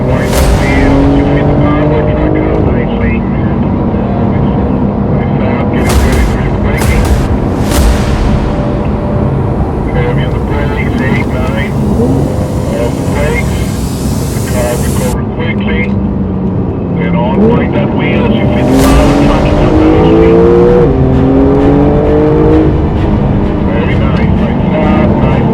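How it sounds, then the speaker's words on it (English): A classic Porsche 911 SC out on a drive, its engine droning loud and steady from inside the cabin with a few louder revving surges, while people talk over it throughout. "We're going to take this gorgeous 911 SC out for a spin."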